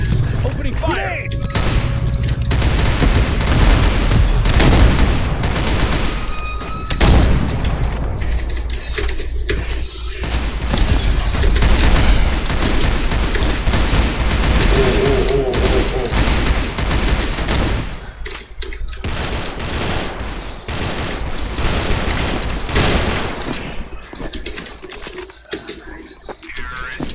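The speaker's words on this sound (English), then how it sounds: "Opening fire." Dense, continuous video game gunfire, loud rattling bursts and rapid shots piling on top of each other for nearly the whole stretch, with brief lulls and voices mixed in.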